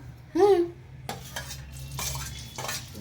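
Maggi masala being stirred into oil in a pan, a spoon scraping and clinking against the metal with a soft sizzle beneath, steady and close, after a brief tonal squeal at the start.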